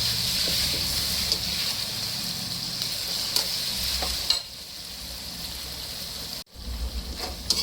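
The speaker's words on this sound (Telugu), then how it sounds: "ఇందులో 1 స్పూన్ అల్లం వెల్లుల్లి పేస్ట్ వేసుకొని పచ్చివాసన పోయినంత వరకు వేయించుకోవాలి" Ginger garlic paste fries with onions in a pan for chicken biryani, a close, even sizzle with a few utensil taps and stirs, briefly cut off by a sharp break near the end before resuming.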